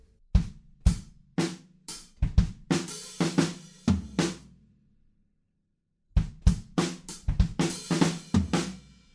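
Drums play a punchy fill from a song, snare and tom hits with cymbal wash, pause for about two seconds, then come back with another quick run of hits.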